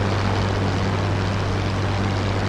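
Propeller aircraft engines drone loudly during a formation take-off in War Thunder, a steady low throbbing hum with constant roar and no voices over it.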